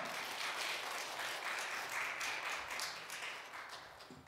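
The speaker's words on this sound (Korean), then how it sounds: "우리 다시 한번 큰 박수로 환영하겠습니다" A church congregation applauds together at a Wednesday worship service, a sustained wash of clapping that holds steady and then starts to fade toward the end.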